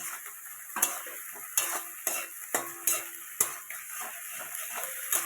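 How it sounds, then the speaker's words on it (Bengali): Brinjal and chela fish curry fries in a pan and gets stirred, a steady sizzle under repeated sharp scrapes and knocks of the spoon against the pan every second or so, close up, with no talking. "দিয়ে এবার একটু নাড়াচাড়া করবো"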